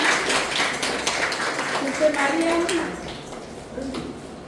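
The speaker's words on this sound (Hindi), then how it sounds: "सभी तालियां बजाएंगे" A church congregation in Andaman claps to welcome a pastor being handed a bouquet, a dense ripple of hand claps under a speaking voice, strongest at first and thinning toward the end.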